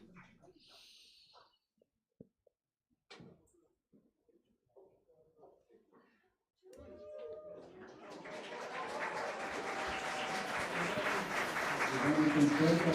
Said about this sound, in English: So a round of applause to the members of the Campus Naturaleza team.